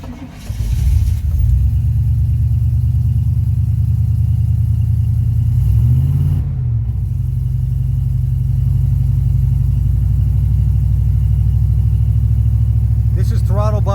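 A 1991 Chevy Silverado pickup with throttle body fuel injection, having trouble idling on its own, runs close by with a loud, steady low rumble throughout and a brief wavering dip in the middle.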